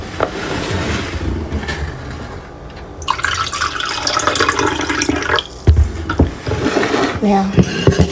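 Tap water runs into a 40 ounce bottle, a steady splashing stream with a rising fill and a few drips and clinks near the end, close up.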